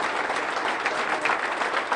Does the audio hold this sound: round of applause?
yes